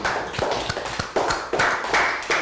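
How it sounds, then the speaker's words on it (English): Young primary-school pupils in a maths lesson clap in a short round of applause, with sharp distinct claps over a lighter mix of many hands, close and fairly loud. "Round of applause for down."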